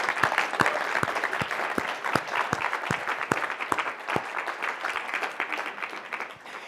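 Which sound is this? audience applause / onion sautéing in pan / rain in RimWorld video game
audience applause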